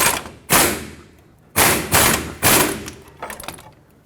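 A ratchet with a 21mm socket snugs a ball joint nut on a 2009-2014 Ford F-150 front suspension, four loud, close rasping strokes with brief pauses between, no talking.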